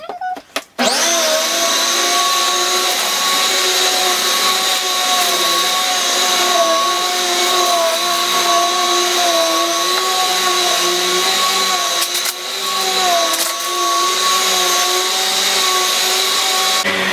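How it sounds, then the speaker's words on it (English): A vacuum cleaner runs loudly and close for the whole stretch, a steady whining drone with a slight wavering in pitch as it moves, starting abruptly after a brief clatter. "I'm going to vacuum first."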